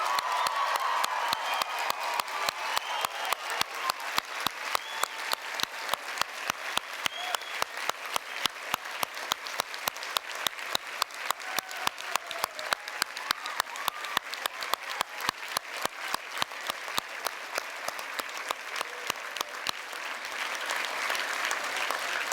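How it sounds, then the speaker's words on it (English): A graduation ceremony crowd claps and cheers in a dense, continuous burst of applause with occasional whoops and shouts rising above it, loud and sustained for the whole stretch. "now you can cheer and clap"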